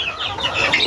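A gamecock rooster, a battle stag, gives a brief, close clucking call lasting under a second.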